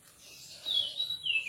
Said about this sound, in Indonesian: Itu burung cipau ya. Masih banyak nih cipau di sini.